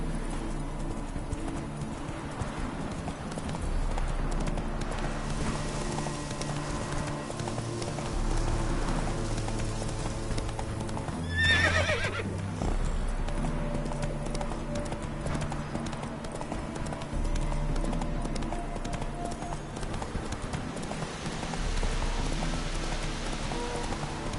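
Roach, a horse in The Witcher 3, trots with steady rhythmic clip-clop hoofbeats over a low game ambience, close and continuous, with a brief louder burst midway.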